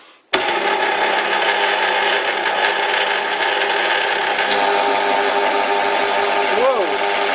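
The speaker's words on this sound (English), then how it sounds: "The lathe seems to have a hard time with those well, pretty light cuts." Metal lathe taking light thread-cutting passes on a lathe spindle thread for an ER32 collet chuck backing plate, a steady loud whine and rumble running nearly the whole time, with a brief warble near the end.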